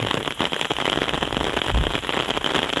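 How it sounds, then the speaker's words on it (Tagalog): Heavy rain pounds steadily on a rural farmlot in Umingan, a dense, continuous crackling downpour with no talk over it. "Ayan, grabe yung ulan."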